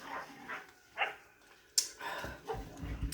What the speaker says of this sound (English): These dogs don't stop fighting.